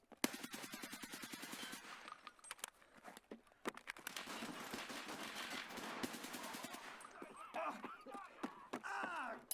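Rapid automatic gunfire from an Escape from Tarkov firefight, dense bursts of shots loud and close, with quieter single reports and a later stretch of mixed in-game sounds.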